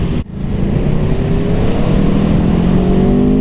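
An Aprilia Tuono V4 Factory motorcycle's V4 engine revs up hard after a brief dip, then holds a loud, rising, close-up growl that sustains to the end with no talking.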